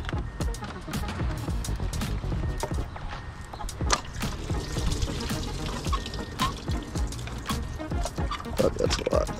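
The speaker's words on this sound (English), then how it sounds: "that was also a lot of coolant that just came out of the head" Coolant gushing out of the engine head of a BMW E46 during a thermostat replacement, a continuous splashing, gurgling pour with clinks and handling noise, close by.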